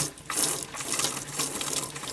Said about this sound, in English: you should have hot water coming out of all of the taps available